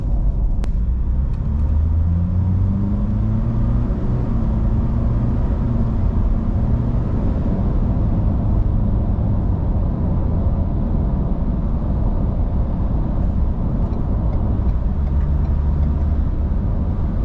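A 2023 Ford Ranger Wildtrak with the bi-turbo V6 accelerates from 100 km/h; a steady, muffled engine drone fills the cabin, its tone swelling briefly before settling into a smooth cruise.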